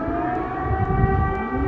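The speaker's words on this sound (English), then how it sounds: "Sirens sounded in Kiev Monday night as a massive Russian military convoy moved within 17 miles." A steady, loud civil defense air raid siren drones continuously in Kyiv as a Russian military convoy approaches, its layered tones holding without pause, with faint clicks over it.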